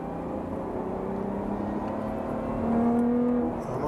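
A Lotus Evora GT430 engine hums steadily on the Silverstone track, its pitch climbing slightly toward the end as the revs rise, with no voices.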